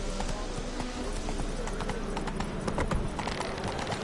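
Roach the horse's hooves clip-clopping in the video game The Witcher 3, a quick steady run of hoofbeats, loud and close throughout, over a soft ambient bed.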